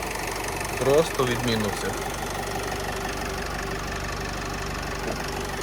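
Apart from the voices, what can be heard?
diesel van engine idling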